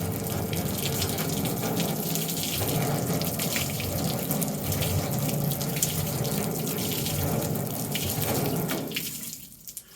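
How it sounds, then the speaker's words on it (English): Low-pressure water rinse spraying a car after a snow foam wash, a steady hissing gush that runs continuously and then cuts off near the end, with no talk. "So we're going to take a low pressure rinse and see if this has had any effect."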